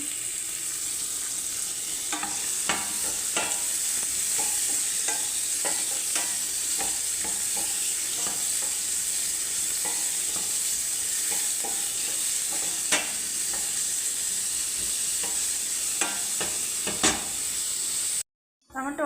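Egg roti frying in a little oil in a pan, a steady sizzling hiss running throughout with repeated scraping and stirring clicks, close and fairly loud, cutting off briefly near the end.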